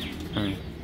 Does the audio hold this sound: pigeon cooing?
yes